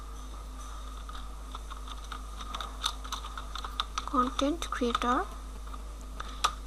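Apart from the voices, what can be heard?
typing on a computer keyboard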